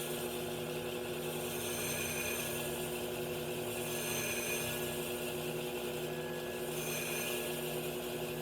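A resin-tech lap roughs a stone with a steady, continuous grinding whir, dense and unbroken throughout, with a slight periodic swell in the high scraping hiss.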